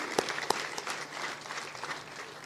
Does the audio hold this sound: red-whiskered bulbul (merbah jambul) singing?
no